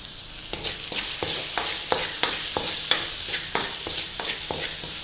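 Onions sautéing with a little salt in a pan for prawn kurma: a steady frying sizzle broken by regular spatula scrapes and taps about every half second, close and clear, with no talk.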